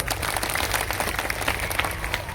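Steady, dense clapping from a political rally crowd in Vadodara, giving a round of applause for Arvind Kejriwal. It is loud and continuous throughout, with crowd noise mixed in.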